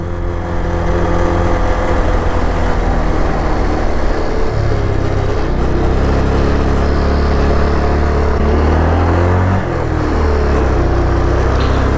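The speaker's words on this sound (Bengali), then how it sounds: "আমাদের বাইকের র সাউন্ড শোনো বন্ধুগণ র সাউন্ড" A motorcycle climbing a steep mountain road toward Lolegaon near Kalimpong makes a loud, continuous engine drone, its pitch shifting as the revs change under load, with steady wind and road roar throughout.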